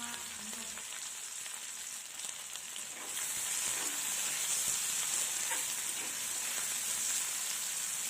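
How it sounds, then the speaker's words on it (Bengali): Sliced onion and slit green chillies frying in oil over cumin and a bay leaf, a soft sizzle that swells louder after a few seconds into a dense, rain-like crackle, close and steady with no talking. "পেঁয়াজ কাঁচা লঙ্কাটাকে মিনিট 2 ভেজে নিয়ে এতে আলুটাকে অ্যাড করে দিচ্ছি।"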